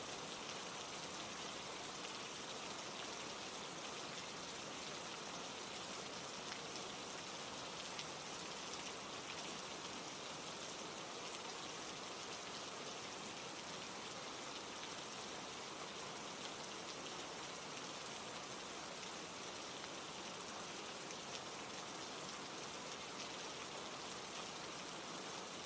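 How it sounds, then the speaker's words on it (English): Steady rain falls in an even, soft hiss of drops on surfaces, constant and unbroken across the whole stretch with no voices. "the rain will stay with you long after my voice fades"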